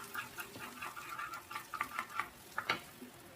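Sliced onions sizzle softly in a pan while ginger-garlic paste is stirred through them for veg tawa pulao, with faint frying crackle and a series of light scraping stirs, no voices.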